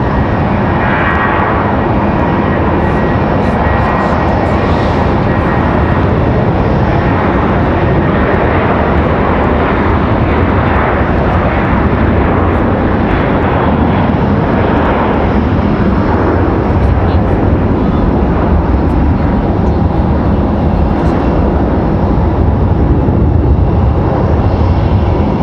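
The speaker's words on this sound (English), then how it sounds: "Got an American 737 departing." An American Airlines Boeing 737 departs from Raleigh-Durham airport, its jet engines giving a loud, sustained, broadband roar that holds for about 25 seconds, with voices talking under it.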